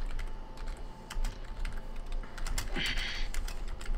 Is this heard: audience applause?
no